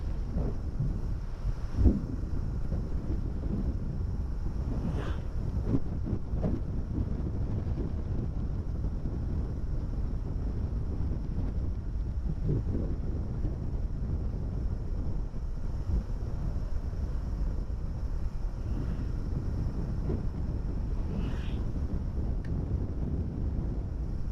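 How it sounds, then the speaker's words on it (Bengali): Strong wind buffets the microphone on a motorbike ride through the sal (gojari) forest of Gazipur, making a steady, loud, low roar that runs without a break and carries a few faint clicks and no voices. "আর আজকে এত বাতাস ও অনেক শান্তি যে কারো মন ভালো হয়ে যাবে"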